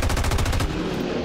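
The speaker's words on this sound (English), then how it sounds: "Let's put a few cannon bullets in him, Bucky." Heavy cannon gunfire from a soldier in the turn-based tactics video game XCOM 2 rattles out as a fast, loud burst of shots for about half a second, then rings out in a fading tail.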